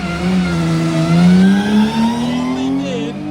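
A Praga race car engine revs hard on a racing circuit, one loud sustained note rising and falling in pitch as it accelerates past at close range, with no one talking.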